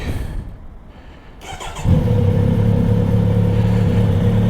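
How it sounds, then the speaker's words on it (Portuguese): A motorcycle engine cranks and catches, then settles into a loud, steady idle that rumbles on close by. "Ia pôr a moto a trabalhar para ver se está tudo ok"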